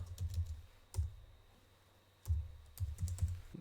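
Someone types a product search into an online shopping site on a computer keyboard, with short bursts of close key clicks separated by a brief pause.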